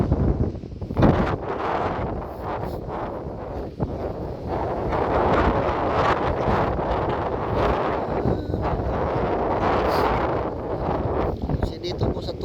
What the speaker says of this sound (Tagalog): ang lakas po ng hangin dito